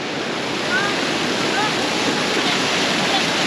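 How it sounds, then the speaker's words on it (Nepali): A water fountain inside an airport terminal near the Disney World area, giving a steady, dense splashing rush that fills the space evenly and continuously at close range, with no talk over it. "पानीको फाउन्टेन दाम रहेछ"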